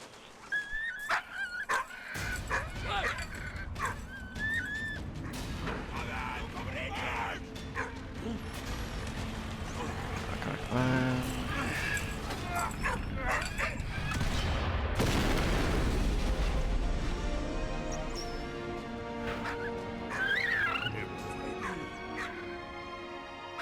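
Dog whimpering and yipping in the World War I video game Valiant Hearts, heard in short high whines and yelps over a dense, noisy game soundtrack with bursts of battle noise.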